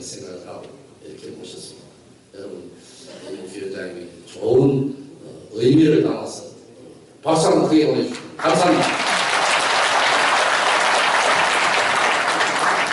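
An audience at the 2019 New Gyeongbuk Forum on regional job creation breaks into loud, sustained applause that runs steadily to the end, after a stretch of someone talking over a microphone.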